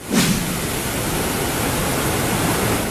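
Strong floodwater current rushing from heavy rain and an overflowing river, a steady, loud broadband roar of churning water that stays constant throughout with no voices.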